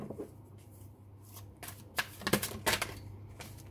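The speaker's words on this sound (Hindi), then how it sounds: "मैं कुछ कार्ड्स निकाल लेती हूँ" Tarot cards being shuffled and drawn by hand, with soft papery riffles and flicks rising to a few sharper snaps near the end, quiet and close with no talk.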